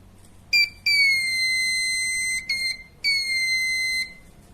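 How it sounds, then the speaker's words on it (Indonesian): The buzzer of an ultrasonic-sensor home security device sounds in shrill, piercing tones, a short chirp followed by long steady blasts with brief breaks, loud and close with nothing else around. "maka buzzer akan menyala."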